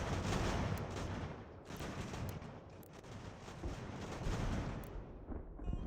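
Cannon fire from a close-range shotgun carriage attack in the strategy game Ultimate General: American Revolution, a dense stretch of booming shots and crackling gunfire rolling on continuously with no talk.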